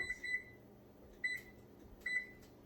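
A kitchen timer set for five minutes while green chili simmers in a saucepan gives three short, bright beeps, each a bit under a second apart, close by against a quiet kitchen background.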